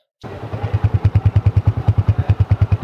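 An old Honda Deluxe 125 motorcycle engine starts and runs close by, a loud, even thumping putter with a steady rhythmic pulse of roughly eight beats a second and no voices over it.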